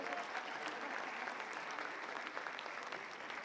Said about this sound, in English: You are welcome to clap. Give them a round of applause.